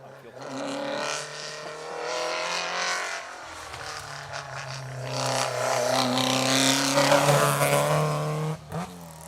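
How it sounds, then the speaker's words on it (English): Peugeot 205 GTI rally car on an asphalt stage of Rally Ceredigion, its engine note rising and shifting through revs over several seconds, moderately distant and steady, with a faint clunk near the end. "James Nichols, David Allman in the Peugeot 205 GTI"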